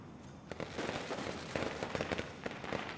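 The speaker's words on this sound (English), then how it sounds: "Wow, firecrackers." Firecrackers in the video game Nine Sols pop in a rapid, irregular string of sharp crackles, fairly loud and continuous for a few seconds with no talking over them.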